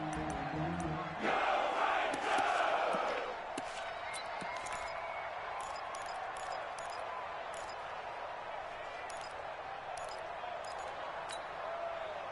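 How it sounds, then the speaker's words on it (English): A stadium crowd in a football video game roars and chants loudly for a few seconds, then settles into a sustained background murmur with scattered clacks and thumps. "the crowd getting into it as we come up on a big 3rd down"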